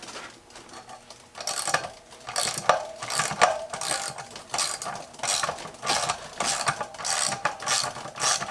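A ratchet tool works on the T45 and 30 mm sprocket bolts of a KTM dirt bike wheel, giving close, rhythmic bursts of rapid clicking separated by short pauses.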